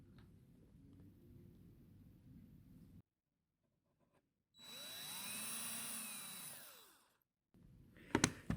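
Power drill pre-drilling a hole in wood while building a tin can guitar, a single whining burst of a few seconds between quiet pauses, with small knocks and clatter afterward.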